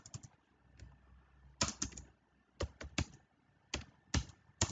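Computer keyboard typing during a command-line session, quiet irregular clusters of key taps with pauses between bursts, no talking.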